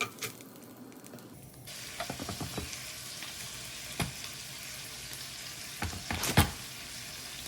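Eggs fry in a pan, a quiet steady sizzle with occasional spatula scrapes and taps, close by and without talk.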